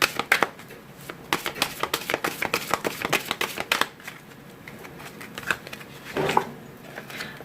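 Oracle cards shuffled and handled for a tarot reading, a rapid run of crisp papery riffles and flicks close by, then a few slower slides and taps as a card is drawn.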